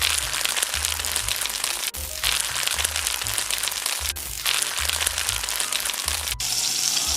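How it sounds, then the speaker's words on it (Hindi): Mustard seeds sizzle and crackle loudly in hot oil in a frying pan, a dense continuous frying hiss close to the pan with a few brief dips, with no talking over it. "अब इसमें मैं डाल रही हूँ राई। राई को भी अच्छे से तड़कने देना है।"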